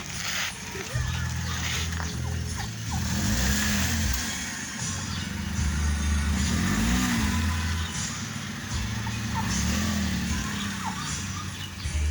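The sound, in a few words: car driving past on a street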